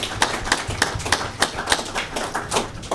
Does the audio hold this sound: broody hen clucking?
no